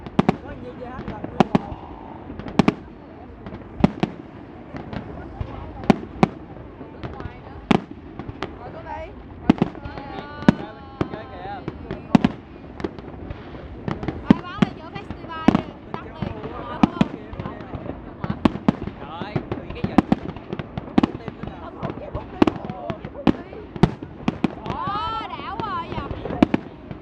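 Fireworks bursting at the 2015 Dalat Flower Festival, a dense, continuous barrage of sharp cracks and booms with crackling tails, loud and fairly close, with crowd voices talking and exclaiming underneath.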